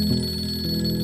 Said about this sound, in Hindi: ओ, जमीर का फोन आया